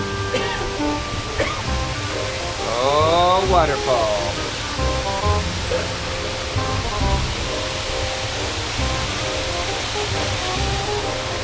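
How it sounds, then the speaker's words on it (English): A zoo waterfall gives a steady, broadband rush of falling water throughout, with a voice and other talk briefly rising over it. "Oh, waterfall."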